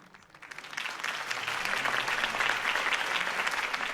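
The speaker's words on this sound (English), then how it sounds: "could have heard that applause" Applause swells from a few scattered claps into a dense, sustained ovation from a sizable crowd, loud and continuous with no voices.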